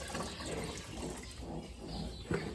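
Water is poured steadily into a goat kids' eco-feeder bucket to top it up, a faint, continuous trickling fill with a small splash near the end.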